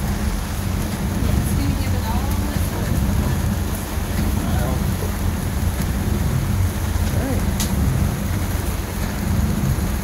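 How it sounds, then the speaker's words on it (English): Steady heavy rain drums on a fishing boat out on the water during salmon and trout fishing, a dense continuous wash with low rumbling underneath. "Now the rain has really started."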